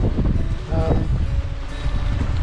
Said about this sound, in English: You can tell there's wind whipping.